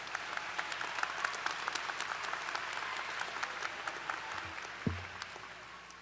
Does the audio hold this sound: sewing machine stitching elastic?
no